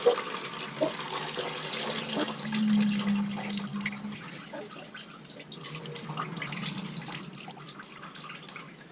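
Liquid drains from a big can of corn into a large bowl: a continuous close pour and splash that eases into lighter trickling and dripping, with no talk.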